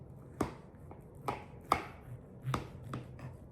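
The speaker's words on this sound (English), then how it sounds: "I'm gonna cut a piece here and say, you cut right slowly into it" A utensil cuts slowly into a dish of baked macaroni and cheese, giving about six soft, separate taps and scrapes against the baking dish in a quiet kitchen.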